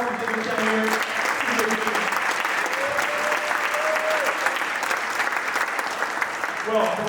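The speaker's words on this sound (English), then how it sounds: "let's do a Carly and Kendall with the question. So, one big round of applause for all of the different down here." Audience at a live event gives one big round of applause, a dense, steady clapping that fills the whole stretch at even loudness.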